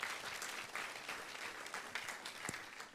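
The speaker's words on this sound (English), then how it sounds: "Please give them a round of applause." Applause at a multicultural music and dance festival, a crowd clapping steadily and evenly throughout, heard from some distance at moderate loudness with no talking.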